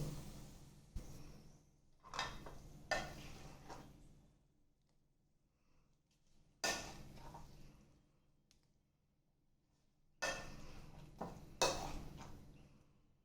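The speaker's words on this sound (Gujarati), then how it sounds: "હવે આપણે તેને ધીમા હાથે હલાવીને મિક્સ કરીશું." Mung pulao being stirred gently in a pan after the tempering is added, heard as three or four separate bursts of scraping and clinking with quiet pauses between, soft and close, with no talking.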